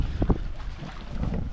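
Wind gusts across open sea around a fish corral in the water, a steady low rumble with boat and water noise and some buffeting on the microphone, no voices.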